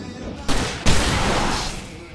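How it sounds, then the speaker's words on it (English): Fireworks explode in the video game Alone in the Dark, two sharp bangs about half a second apart followed by a dense, sustained crackling roar, loud and close throughout. "I can set off more of the fireworks from here and help you out!"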